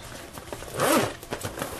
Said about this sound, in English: on the back, there is a zipper compartment